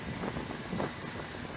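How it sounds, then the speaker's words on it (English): A Navy F-35C single-engine stealth fighter jet on an aircraft carrier roars as a steady, broad jet engine noise that stays even throughout, with no talk. "This is the F-35C. It's the Navy's variant of the Joint Strike Fighter. Single engine fighter, fifth gen aircraft"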